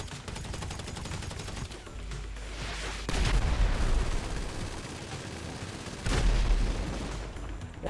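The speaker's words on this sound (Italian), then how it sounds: "sta là sopra il bastardo, sta sparando" Gunfire in a GTA 5 Online deathmatch rattles on dense and continuous, with heavier booming bursts swelling in twice amid the chaotic noise, and no talk over it.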